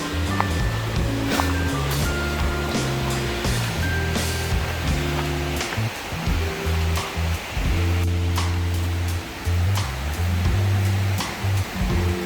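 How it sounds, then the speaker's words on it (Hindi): Rushing water at Triple Falls in North Carolina, a continuous broad roar filling the background, with intermittent low rumbling thumps and knocks layered over it. "आपको पानी की आवाज़ आ रही होगी"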